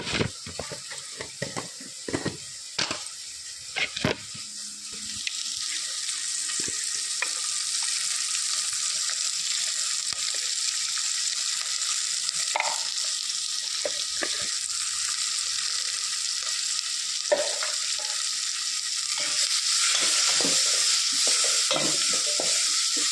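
Onions frying with rock salt in a pan, a bright steady sizzle that intensifies after the opening seconds, with scattered clinks and scrapes of stirring early on and no voices.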